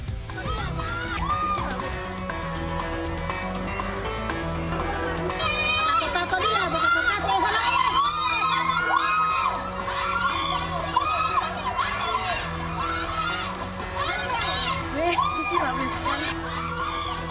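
Residents shout as a motorcycle thief flees across the rooftops of houses; many raised voices overlap into a loud, continuous crowd clamor with shrill cries that persists throughout.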